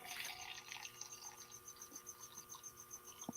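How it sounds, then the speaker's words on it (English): Coffee poured from a pot into a cup as a refill, a steady close-up stream of trickling liquid that continues throughout. "See if y'all can hear it pouring into the cup here"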